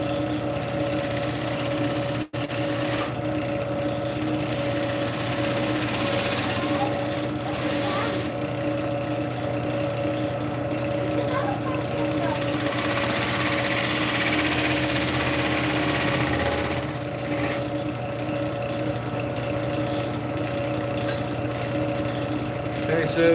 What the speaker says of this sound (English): Start doing some push cuts with the bowl gouge to remove stock.